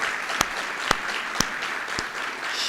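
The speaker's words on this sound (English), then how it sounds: "give him another round of applause" Audience applause at a lecture event, a steady wash of clapping from a crowd with a few sharper individual claps standing out, moderately loud and continuous throughout.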